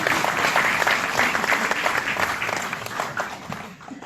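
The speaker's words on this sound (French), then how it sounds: "qu'on va applaudir pour son retour" A crowd at a political speech gathering applauds a new mayor, dense sustained clapping from many hands that gradually thins and fades toward the end.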